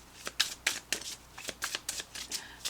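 Tarot cards shuffled by hand, a string of about a dozen crisp riffling bursts in a steady rhythm, close and clear, with no voices.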